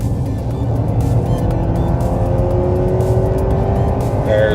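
Engine of a 2018 Honda CR-V AWD revving high under hard acceleration, a loud steady drone with rising pitch heard from inside the cabin, with road noise underneath.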